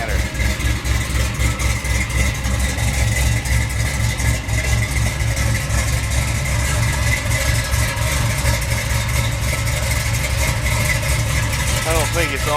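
A 350SS motorcycle engine idling with the choke on, a loud steady uneven lumpy idle that runs nonstop, close up.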